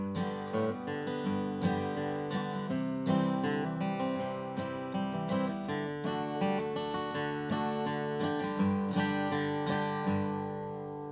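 An acoustic guitar plays a cross-picking rhythm pattern with hammer-ons, a steady stream of picked notes in an even rolling rhythm over about eleven seconds, close and solo with no talking.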